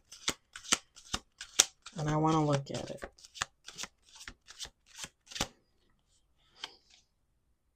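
Cards are shuffled in a quick run of crisp riffling snaps, close up, with a brief spoken phrase partway through before it trails off.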